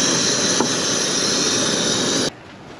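Compact ultralight backpacking gas stove burner lit and roaring with a steady broadband hiss of gas flame that cuts off abruptly near the end, leaving quieter background.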